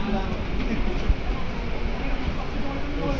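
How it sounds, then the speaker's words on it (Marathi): A train pulls into Dadar station, a steady low rumble and rattle of wheels filling the platform with a faint horn tone, while people talk nearby. "चला ट्रेन थांबता येत आहे."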